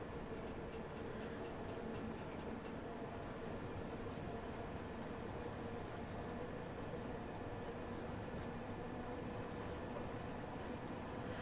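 Train running in Train Sim World 2 on the PS4, a London Underground or Overground line: a steady, continuous rumble with a faint hum, constant and fairly quiet throughout with no talk.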